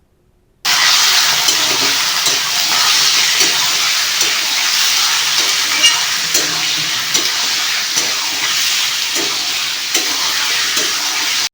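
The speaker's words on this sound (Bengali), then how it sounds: "এবার ধুয়ে এবং বেছে রাখা মাংসগুলো ওর মধ্যে দিয়ে দিতে হবে।" Washed meat hits browned onions frying in a pan, setting off a loud, steady sizzle with occasional stirring scrapes, heard up close.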